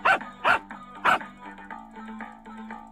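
A dog in a Lacey's flash game barks three times in quick succession, close and fairly loud, then lets out a few softer yips and whines, with no voices over it.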